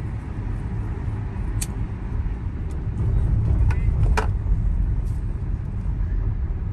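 A powerful car drives through Paris streets, its engine a low rumbling hum with surrounding traffic noise and a few faint clicks, steady throughout and swelling slightly midway.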